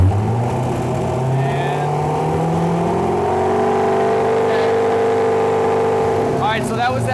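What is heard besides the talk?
LS engine in Porsche 911 revving to 3000 RPM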